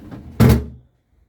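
A refrigerator drawer slides shut with a single short, close thud, followed by quiet.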